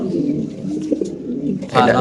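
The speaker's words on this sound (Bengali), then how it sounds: "এটা নর কবুতর" Soft, low coos of a male Lahori pigeon murmur briefly at a pigeon farm, mixed with a bit of background talk and a faint rustle near the end.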